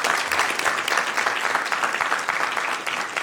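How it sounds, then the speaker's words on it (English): Sustained applause from the audience at a Sacramento City Council meeting honoring community members, steady and fairly loud clapping from a crowd in a chamber, continuing without a break. "a big round of applause for all the community members who came out today"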